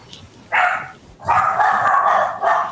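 Dogs barking, two loud bursts of yapping barks close by, the second longer and more sustained, over low background noise.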